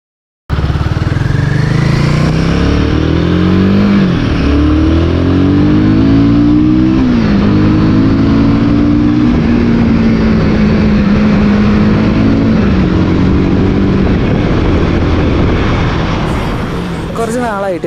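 Royal Enfield Guerrilla 450 motorcycle engine on a test ride, revving loud and close as it pulls through the gears with rising and falling pitch, while wind rushes past steadily throughout.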